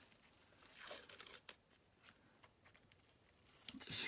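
Paper medical tape is torn for a wound dressing, giving faint short ripping and crinkling bursts, quiet and close, with a small click and rustling between tears.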